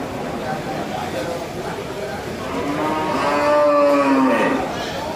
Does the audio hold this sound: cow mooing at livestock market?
yes